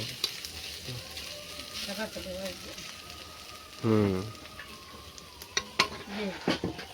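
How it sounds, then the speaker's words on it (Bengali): Onions fry in plenty of oil for birista while a biryani is prepared, making a steady close sizzle with occasional stirring clinks. Voices talk briefly over the frying. "আর এখানে তোমার বেরেস্তা রেডি হচ্ছে। বেরেস্তা করতে সবসময় বেশি তেলে।"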